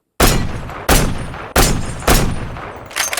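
Several loud, sharp bursts of sniper gunfire in a video game, roughly four or five shots spaced under a second apart, each with a brief ringing tail.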